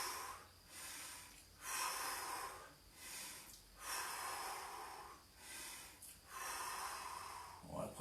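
Forceful breaths are pushed out through the nose and mouth during a Thai boxing leg exercise, about five long hissing exhales at a steady slow rhythm with quieter inhales between, close to the mic.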